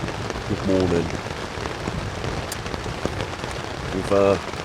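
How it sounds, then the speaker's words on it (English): Heavy rain falling on a tent during a thunderstorm at a wild camp in the Surrey Hills, UK, a dense continuous patter close by, with two brief voice bursts over it. "the rain's coming down"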